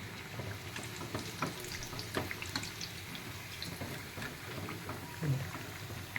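Sabudana vada frying on a medium flame, a continuous bubbling sizzle of oil with scattered crackles and pops, moderately loud and close, with no talking.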